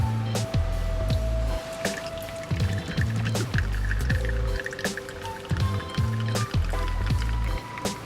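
Espresso pouring from an inverted Handpresso 12-volt portable machine into a cup: wet dripping and gurgling squishes in repeated bursts, close and fairly loud, with no one talking.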